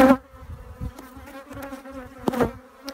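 Bees in the attic of a historic home in Willcox buzz close by in a steady droning hum with louder swells as individuals pass near, alone without talk.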